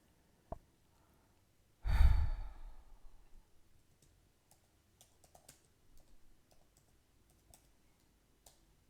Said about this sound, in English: typing with one hand because I'm holding a microphone with the other